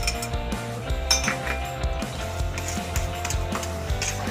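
Repeated metallic clinks and scrapes of a utensil against a pan as a cream-based cheese sauce with grated Romano and Parmesan is stirred, close and fairly busy, with no talking.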